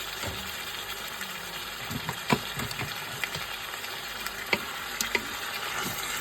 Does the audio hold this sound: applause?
no